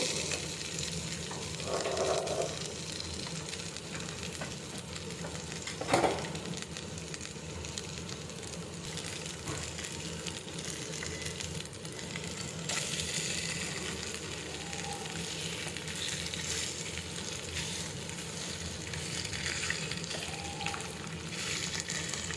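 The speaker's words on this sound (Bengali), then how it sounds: "আমি তেলে কিছুক্ষণ এটাকে ফ্রাই করে নিব" Pieces of beef chaap frying in oil, a steady close crackling sizzle that runs throughout, with a brief clatter and a few small pops along the way and no talking.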